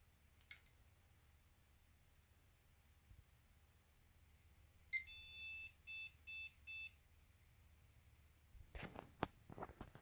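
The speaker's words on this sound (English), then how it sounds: "when I press the power button, I should get a few beeps because there's no monitor attached" A short series of computer motherboard POST error beeps with no monitor attached, one long tone followed by three brief ones, rings out in a quiet room, with faint clicks before and after.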